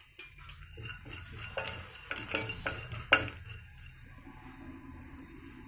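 Cashews and poppy seeds dry toasting in a pan for capsicum masala kurma, a spoon scraping and clinking against the metal in irregular strokes, close and fairly quiet, with one sharp clink.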